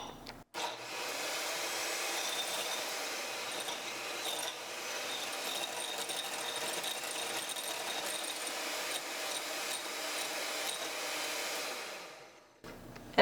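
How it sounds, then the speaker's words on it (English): An inexpensive electric home hand mixer whips egg whites or aquafaba in a bowl with a steady, loud motor whir that runs continuously for about twelve seconds before switching off. "a very inexpensive home hand mixer"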